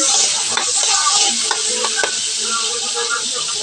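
Fish innards sauté in a hot pan, giving a loud, continuous close sizzle broken by occasional stirring clatter.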